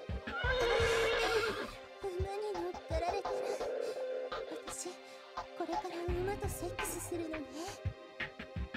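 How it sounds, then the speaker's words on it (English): A stallion neighs in a video game sound effect, with two loud, shrill whinnies early and late, and softer hoof and body sounds between. "the stallion happily neighed"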